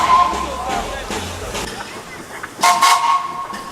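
A narrow-gauge steam train on the Gulbene–Alūksne line pulls away, giving a couple of whistle toots over rumbling chuffs and track noise at moderate distance, with voices talking nearby.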